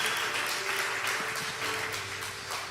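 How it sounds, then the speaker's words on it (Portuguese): A church congregation applauds during an evening worship service, a steady wash of clapping with some voices and a faint tone beneath, moderately distant throughout. "Aplaude Jesus nessa noite."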